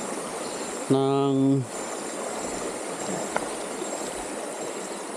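A riverside farm lot in Cawayan, Real, Quezon carries the steady, continuous rush of flowing river water, with a brief tonal vocal sound near the start.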